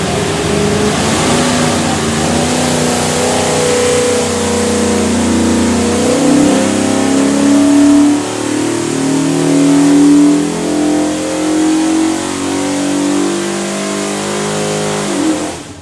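A 421hp 347 Ford stroker V8 revs loudly on a dyno, its deep, steady engine roar climbing and surging through a long pull before easing off at the end, close and dominant with no voices.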